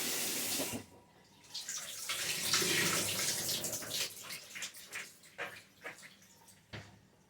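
Cold tap water runs and splashes as cabbage is rinsed by hand, a hissing stream broken by patchy gurgles, drips and handling noises, close and fairly quiet.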